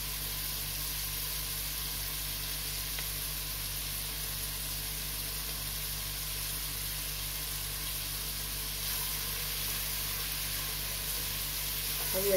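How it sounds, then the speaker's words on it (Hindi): Tomato-based masala for chole matar fries in a pan with a steady, even sizzle-hiss that holds unbroken throughout, moderately quiet and heard alone. "अभी अच्छी तरह से फ्राई हो चुका है।"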